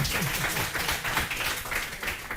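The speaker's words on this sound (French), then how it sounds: "on les applaudit, ils ont essayé" Studio audience on a televised quiz show applauding, steady dense clapping throughout, moderately loud and continuous with no voices over it.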